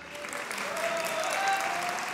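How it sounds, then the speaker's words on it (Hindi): Studio audience applause on the Pakistani comedy talk show Hasna Mana Hai rises as a steady, moderately loud wash of clapping, building slightly midway with faint tonal sounds running through it. "ये लुक जिनको अच्छी लगती है वो तालियां बजाएं, तीन तालियां बजाएं"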